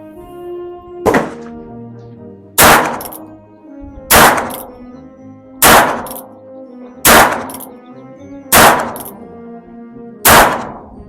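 A .22 Magnum is fired at an outdoor shooting range: seven sharp, loud single shots spaced about one and a half seconds apart, each with a short ringing tail.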